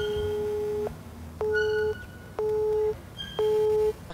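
A telephone busy signal repeats as four evenly spaced steady tones, each about half a second long, over a low background murmur, after a call goes unanswered.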